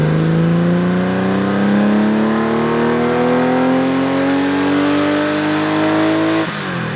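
A 305-horsepower car engine revs up steadily, its pitch climbing smoothly over several seconds before abruptly dropping off at the end; loud and close.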